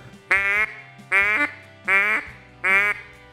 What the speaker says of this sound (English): When you pick up a duck call and you just blow into it